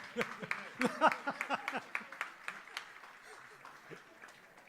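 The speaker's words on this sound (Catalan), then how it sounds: "Un aplaudiment per sa creu" Applause from a dinner crowd at a literary awards ceremony in Ibiza, a scattered run of claps that starts dense and thins out over several seconds, with voices murmuring underneath.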